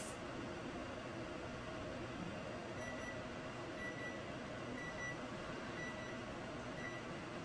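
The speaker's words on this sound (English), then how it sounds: "Your timer just went off and scared the shit out of you." A kitchen timer goes off with faint, short, evenly spaced beeps over a steady background hiss. No one speaks.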